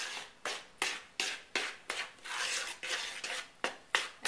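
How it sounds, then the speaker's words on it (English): A spoon stirs dry gluten-free banana bread ingredients in a bowl with a quick, regular scraping rhythm, about a dozen brisk strokes, close and clear with no talking. "we're going to just go ahead and stir this up real good"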